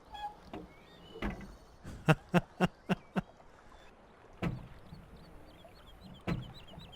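Front loader arm on a tractor in a farming video game gives a run of quick thumps and knocks, several closely spaced in the middle, with light squeaks and scattered clunks before and after.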